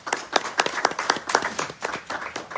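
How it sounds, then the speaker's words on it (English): Scattered hand claps from a small community meeting audience in Anacostia, a dozen or so sharp, uneven claps over a couple of seconds, fairly close and thin rather than a full ovation. "Give him a round of applause to join us tonight."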